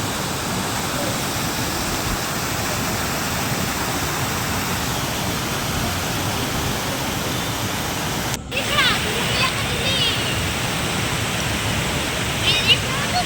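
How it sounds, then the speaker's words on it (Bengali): A mountain waterfall near Lachung in Sikkim roars in a loud, steady broadband rush, close and continuous, with a brief dropout and faint voices behind the water's wash. "ঝর্ণার আওয়াজটা তোমরা শোনো"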